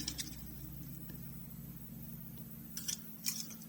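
A hole punch clicks through a playing card in a few sharp, close snaps near the start and end, set over a quiet room hum.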